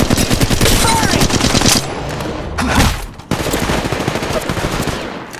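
Loud rapid automatic fire in a shooter game, with long rattling bursts, a short pause, then another sustained volley close up, and brief voice callouts between shots.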